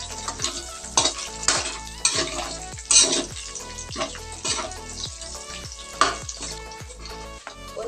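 Pieces of meat fry in a pan until golden brown, a steady loud sizzle broken by repeated sharp scrapes and clatters of a utensil stirring against the metal.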